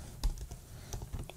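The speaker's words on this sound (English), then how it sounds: "Type google.com and just type search for" Computer keyboard typing while entering a web address into a search bar, a few quiet scattered keystrokes in short uneven bursts, close and soft with no talking.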